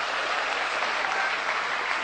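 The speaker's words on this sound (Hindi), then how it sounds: "जोरदार तालियां शांति के लिए," Dense, steady applause from a large crowd at a comedy show, a continuous wash of clapping that holds at an even level throughout.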